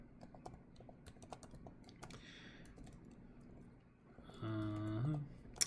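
Fingers tapping keys on a computer keyboard, a quick run of light close clicks, then a pause and a few more taps with a brief low squeaky rub near the end.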